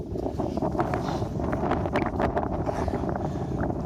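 Strong wind sweeping across an open mountain top, a continuous roaring rush with gusty buffeting against the microphone and no voices.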